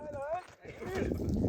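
A mare's hooves clip-clop at a stable as she is brought in to be tied up, the steps short and close under someone talking.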